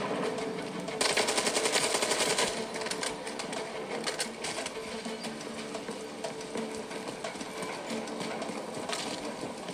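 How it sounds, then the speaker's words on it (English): Enemy gunfire in Call of Duty Modern Warfare III, a dense, continuous automatic clatter of rapid shots that runs almost the whole time, loud and busy, with a voice briefly under the din. "There's enemy fire."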